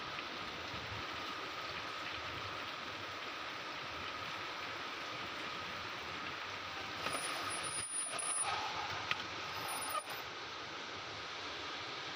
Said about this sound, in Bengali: এই যে কী জোরসে বৃষ্টি নেমেছে, বাপরে বাপ